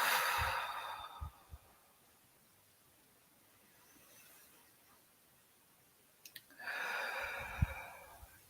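Slow, audible breathing during a guided relaxation exercise: a long breath in, a quiet pause, then a drawn-out exhale, close and alone without speech.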